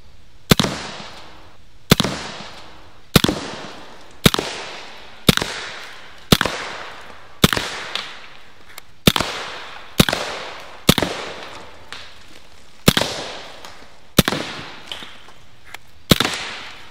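A BinTac S45 Mini air rifle fires about a dozen sharp, evenly spaced shots, each a crisp crack followed by a brief decay, with no talk between them.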